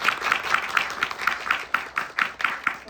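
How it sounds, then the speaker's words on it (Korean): Audience clapping at a short-film festival screening talk, a steady patter of many hands with regular rhythmic pulses, fairly close and continuous. "박수 한번 부탁드립니다"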